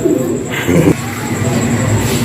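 Soft, low pigeon coos repeat against a steady background hum, with a person talking faintly at the same time.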